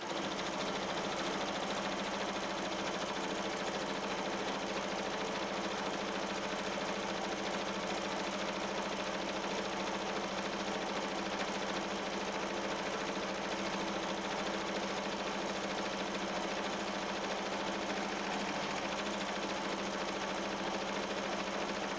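A sewing machine stitching jeans fabric with straight stitching near the edge hums in a steady, continuous, fairly quiet run without pause, no voices over it.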